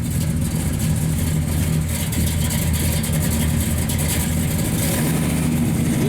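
A 1967 Chevrolet Chevelle SS resto-mod idles steadily with a lumpy thump cam, a continuous low rumbling engine note held close and loud throughout, with no talk over it.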